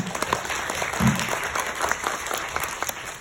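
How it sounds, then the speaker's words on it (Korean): Clapping from a modest audience, fairly even and moderately loud, with a few sharper individual claps standing out. "박수"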